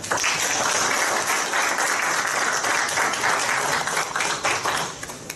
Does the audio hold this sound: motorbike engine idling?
no